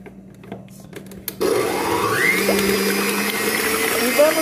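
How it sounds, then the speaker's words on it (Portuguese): A stand mixer beating egg whites for a cloud cake switches on after a quiet stretch with faint voices, then holds a loud, steady whirring drone right through to the end. "já coloquei as claras aqui na batedeira"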